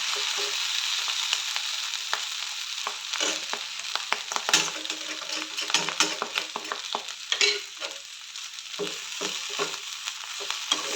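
Clam meat fries in a pan with a continuous hissing sizzle, broken by frequent sharp pops and crackles and an occasional stirring scrape, close and fairly loud.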